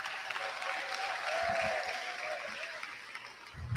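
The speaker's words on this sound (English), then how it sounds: "Let's give our parents a round of applause" Applause from the audience at a middle school eighth grade graduation ceremony, steady and moderately loud throughout with a faint whistle-like tone partway through.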